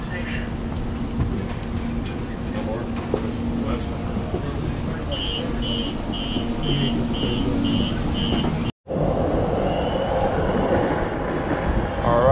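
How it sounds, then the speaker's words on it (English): A passenger train in San Francisco rumbles steadily past at close range, with a repeating high tonal chime partway through and a sharp break before a slightly different continuous rolling noise. "Train number two. This is a new train"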